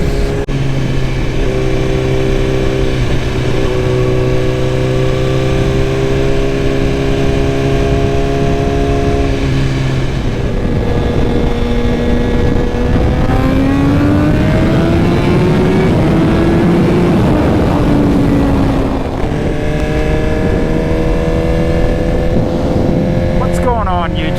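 A 2021 Suzuki GSX-R1000R with a Brock's exhaust drones loudly at close range, its pitch climbing and falling through several revs over a long stretch.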